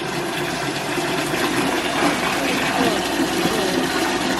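Water running steadily into a pig waterer on a farm, a continuous rushing gush that holds at an even level throughout; people talk quietly underneath.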